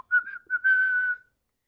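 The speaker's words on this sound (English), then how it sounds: "Look, he's whistling." A short, clear tune is whistled in a read-along story, made of a few bright sustained notes with a slight warble, heard alone against silence.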